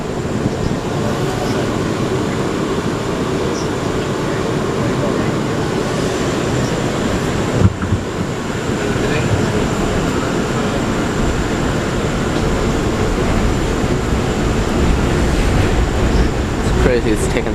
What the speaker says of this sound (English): This is a Brooklyn-bound A train.